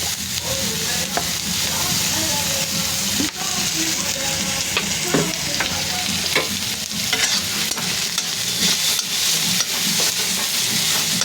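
Oil sizzling steadily in a pan while myna bird meat curry is fried and stirred, a continuous crackling hiss with occasional scraping of the spoon, close and fairly loud.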